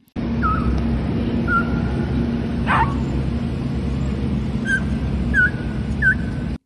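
A dog that has been shot on a farm whimpers in a few short, high, thin cries spread across the clip, heard faintly over a loud, steady low rumble.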